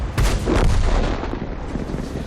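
A single deep, booming tank gun shot in the video game World of Tanks, loud and close, its heavy blast rolling off into a rumbling decay.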